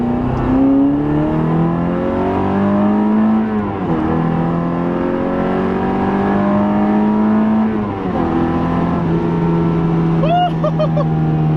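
Ecotec-swapped Mazda Miata, about 160 wheel horsepower, accelerating hard through several gears, engine tone climbing steadily then dropping at each shift, loud and close from inside the car, no talk.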